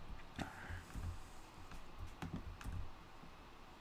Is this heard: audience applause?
no